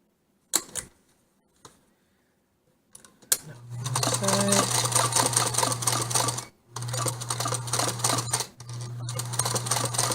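A sewing machine runs a big stitch through leather: a few soft clicks, then a loud, steady motor whir for several seconds that stops briefly and starts again.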